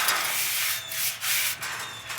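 A wire brush scrubs rust off metal patio furniture after scraping, giving close, loud, continuous harsh rubbing strokes with brief dips between passes.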